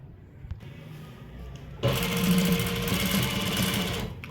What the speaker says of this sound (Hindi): अब इसके ऊपर भी किनारे की सिलाई लगानी है।